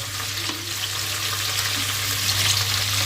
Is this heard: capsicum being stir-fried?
yes